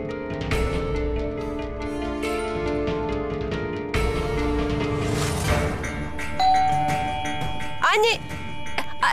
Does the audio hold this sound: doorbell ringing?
yes